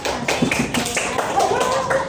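A primary school class in Karawang claps for a presenting group, quick tapping hand claps over a couple of seconds, with voices talking over them.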